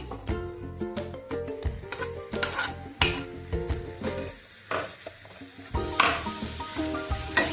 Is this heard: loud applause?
no